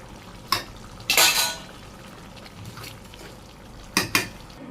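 A metal ladle scrapes and clanks in a pot of hilsa fish curry with taro leaves and raw jackfruit being mixed off the heat, a few loud bursts of stirring separated by quiet gaps, no talking.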